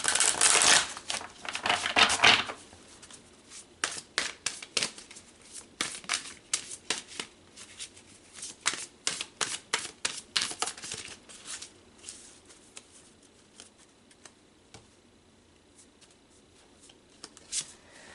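Tarot cards shuffled by hand in repeated papery riffling bursts, loudest in a dense flurry at the start, then quieter irregular shuffles with no talking.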